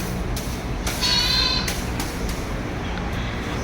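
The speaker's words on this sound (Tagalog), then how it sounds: "May kambing sa kabila." A goat bleats once in a backyard in a rural province, a clear mid-distance call rising over steady outdoor background noise.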